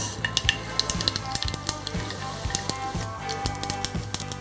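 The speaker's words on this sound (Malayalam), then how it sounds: "വെളിച്ചെണ്ണ ചൂടായി വരുമ്പോൾ ഇതിലോട്ട് കടുക് ഇട്ട് കൊടുക്കാം." Mustard seeds sizzle in hot coconut oil for a Kerala-style beetroot pachadi, giving a soft continuous fry punctuated by quick, repeated popping crackles at close range.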